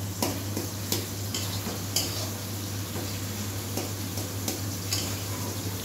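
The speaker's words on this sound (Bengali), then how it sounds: "শুকনো লঙ্কা টঙ্কা ভেজে।" Dried red chillies frying in a pan while being stirred, with a steady low hum beneath a soft sizzle and a handful of sharp metallic scrapes and taps from the spoon at irregular intervals.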